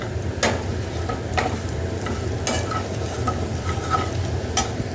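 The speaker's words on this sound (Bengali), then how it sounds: "ময়দাটা ততক্ষণই নাড়বো যতক্ষণ এর কাঁচা গন্ধটা চলে না যাবে" Flour stirred and frying in a pan for a garlic chicken sauce, giving a steady low sizzle with periodic scraping strokes of a spoon, close and continuous with no talk.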